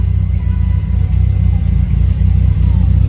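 A turbocharged 600hp Mitsubishi Evo 9 with a top-mount 6466 turbo idling lean after a fuel line rework, a loud steady low rumble with a faint lumpy pulse, close by.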